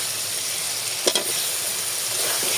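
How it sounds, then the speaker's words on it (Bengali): Potatoes frying in cooked spice paste in a pan, a steady close sizzle with a couple of quick scraping stirs partway through. "মশলাটা কষানো শেষ সেটা আলু দিয়ে দিই"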